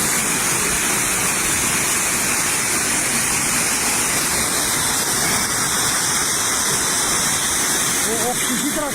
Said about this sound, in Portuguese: a cidade grega de Salônica viu as ruas se transformarem em rios violentos